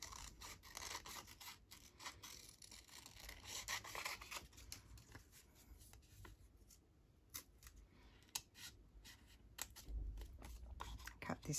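Scissors snip repeatedly through paper, cutting out collage pieces with a small border, a run of crisp close cuts and rustles at a steady working pace, quiet and without speech.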